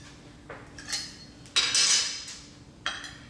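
A knife scrapes and clinks against a dish while slicing and cleaning between cuts of a key lime pie, giving three separate bursts of metallic scraping, the middle one the longest and loudest, with no talk.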